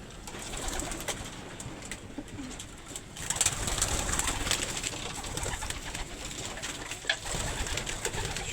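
Soft, continuous cooing of many racing pigeons fills an enclosed loft, with occasional fluttering and shuffling, steady and moderately close.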